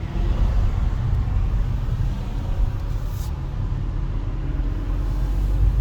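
A 1930 hot rod rolls down the road, heard from inside as a steady, loud low rumble of engine and road noise without let-up.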